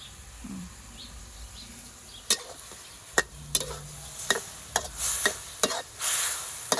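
Pork pieces and holy basil stir-fried in a pan, a low steady sizzle broken by sharp scraping taps of a spatula at irregular intervals, with faint bird chirps in the background.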